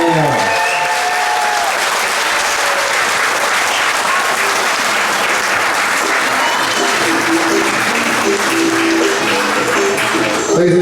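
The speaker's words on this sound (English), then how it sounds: "Ladies and gentlemen, one more round of applause for the John F. Kennedy class of 2021." Sustained audience applause at a school moving up ceremony for a graduating class, a full continuous crowd clapping at a steady level, with some faint voices and cheering mixed in.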